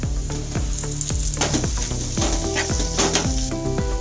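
Potatoes hitting hot oil spiced with turmeric and red chili powder for a dry aloo sabzi, a loud, dense sizzle with repeated rhythmic stirring strokes throughout, no talking.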